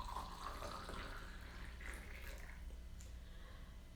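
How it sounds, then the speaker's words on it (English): Hot water trickles and splashes as it is poured from one tea vessel into another, a soft, faint, continuous liquid sound heard up close over a low room hum. "transfer the water from my hotter vessel one last time into the empty one"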